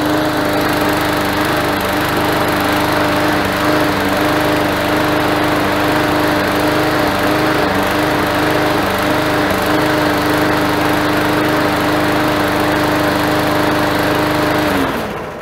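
A Briggs and Stratton 300e lawn mower engine runs steadily and loudly up close, a constant high buzzing drone holding an even pitch for the whole stretch with no talk over it.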